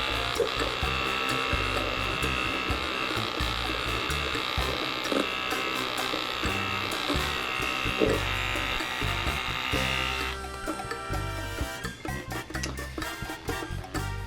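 An electric makeup brush cleaner spinning a highlighting brush, giving a continuous high motor whine with rattling that shifts pitch partway through, steady and close with no talking.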